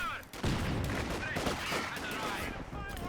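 Dense battle gunfire in Company of Heroes 2 rolls on without a break, with overlapping rifle and machine-gun bursts and thumping impacts, loud and crowded, while a voice talks over it.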